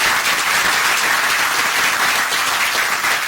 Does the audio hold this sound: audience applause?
yes